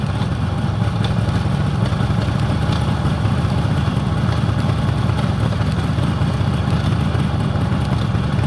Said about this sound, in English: So if I pop the clutch out, just gently let the back wheel turn, and they all work right through to 6.